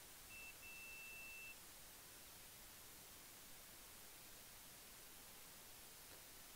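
A multimeter in continuity mode gives a single steady electronic beep, about a second long, faintly over a constant background hiss, then only the hiss remains.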